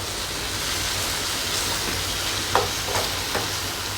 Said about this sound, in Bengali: এবার আমি ভালো করে কষিয়ে সামান্য জল দিয়ে দেবো।